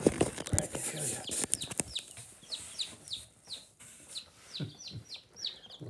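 Newly hatched chicks in a brooder give a string of thin, high peeps, faint and spaced out, following a stretch of rustling and scratching close by.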